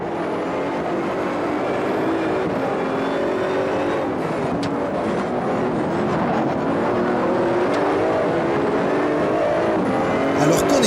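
Race cars roaring around a track in the racing sim GTR Evolution, a steady loud engine drone with gear-shift surges and tyre noise throughout, no talk.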